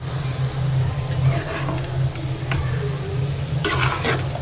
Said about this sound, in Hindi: और यहाँ बघार हो रहा है रेडी।